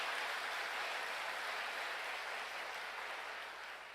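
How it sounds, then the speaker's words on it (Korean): Steady, dense clapping rises from a church congregation giving a pastor an ovation, a soft, even wash of applause that barely tapers at the end, with no talking over it. "다시 한번 이렇게 큰 영광의 박수 올려드립니다."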